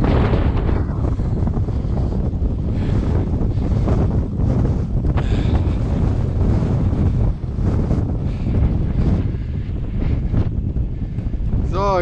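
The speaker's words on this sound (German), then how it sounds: "Immer noch windig, aber nicht mehr ganz so doll." Heavy wind buffets the microphone in a constant roaring rush on the North Sea coast, loud and unbroken throughout with gusty surges.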